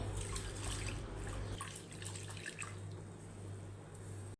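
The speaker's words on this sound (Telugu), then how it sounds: "మెంతులు వన్ టేబుల్ స్పూన్ మినప్పప్పు ఒక కప్పు వీటిని ఒకసారి శుభ్రంగా వాష్ చేసుకుందాం" Urad dal and fenugreek seeds being rinsed in water, with soft sloshing, trickling and dripping close by and no talk.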